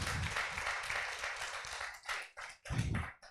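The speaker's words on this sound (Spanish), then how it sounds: "Un fuerte aplauso para María también" Audience at a church gathering applauding María: a burst of clapping and tapping that fades, breaks off briefly, then swells again in a shorter second round.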